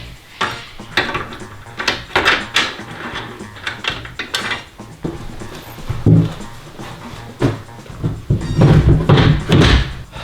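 Pocket door rollers being slid into a cavity slider track in an existing wall, a series of close metallic clacks, knocks and rolling scrapes in uneven bursts, louder toward the end.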